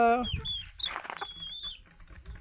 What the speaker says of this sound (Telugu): ఈ ఒక కోడి పెట్టుకున్నాను ఎందుకంటే గుడ్లు బాగా ఇస్తుంది